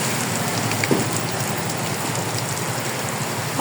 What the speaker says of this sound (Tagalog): Ulan. Yan na.